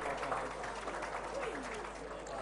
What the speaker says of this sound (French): Mesdames, Messieurs, applaudissez encore pour KSC Djigisseme.